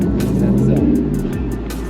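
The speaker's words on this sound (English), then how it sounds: "There goes the truck." Near the Portage la Prairie Mall, a truck rumbles past close by, its low engine drone shifting pitch as it goes, while a person talks over it.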